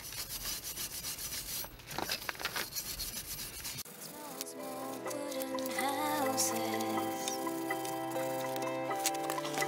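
Car brake hub parts are scrubbed clean with a brush during a brake disc and pad change, giving quick scratchy rubbing strokes up close, later joined by steady background music.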